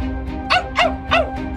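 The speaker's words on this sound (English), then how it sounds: "Gelert looked at his master and barked happily." A dog gives three quick, clear barks close by, bright and eager with short gaps between them, over a steady low background tone.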